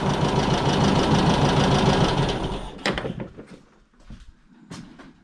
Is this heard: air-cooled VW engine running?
yes